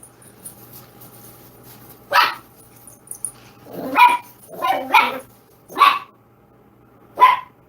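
A little dog barks in five sharp, separate yaps spaced about a second apart, loud and close in an otherwise quiet room.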